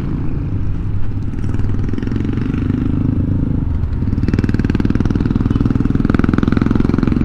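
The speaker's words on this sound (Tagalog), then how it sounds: "Yung maingay ang muffler. Yan, maingay itong tricycle." A loud tricycle with a noisy muffler in Tanay, Rizal gives a steady, close, rattling engine drone with clattering knocks. It grows a bit harsher and louder partway through and continues the whole time without voices.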